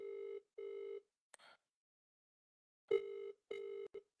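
Outgoing call ringback tone on a phone, steady beeping pulses in a repeating pattern with short gaps, faint and heard alone apart from a brief click and rustle.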